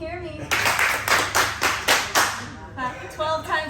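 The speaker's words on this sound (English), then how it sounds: "Clap 5 times if you can hear me." A group of people claps hands together in a psychic workshop, with five sharp bursts of applause in even rhythm, loud and close, followed by brief voices.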